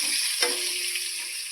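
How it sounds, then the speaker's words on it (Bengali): Potatoes fry in hot oil in a wok with a bright, steady sizzle and a single brief stir or clatter near the start, close up and without talk. "এখন আমি আলুটা ভালো করে ভাজিয়ে নেব।"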